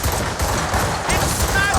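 A volley of musket and cannon fire erupts aboard a ship after a fire order in Assassin's Creed Rogue, loud, dense overlapping blasts filling nearly two seconds with continuous rumbling booms and crackle.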